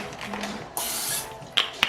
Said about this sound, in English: I spray the inside of it out with some cooking spray so it doesn't stick